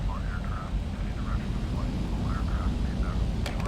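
A DHC-6 Twin Otter in the FSX flight simulator sits on the runway, its engines droning in a steady, moderate hum throughout, with faint clicks near the end.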